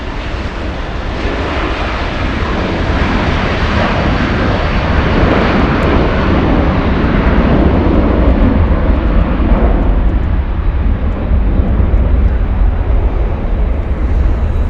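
A JetBlue airliner roars at LAX airport, a loud, steady jet engine rumble that sustains throughout, broad and close, gradually easing slightly toward the end with no talk over it.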